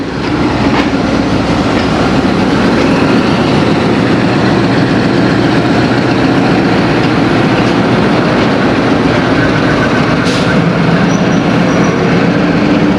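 Locomotive of the Babu Passenger Train at Lahore Junction in Pakistan: a loud, steady heavy diesel rumble with grinding rail noise, continuous and close throughout.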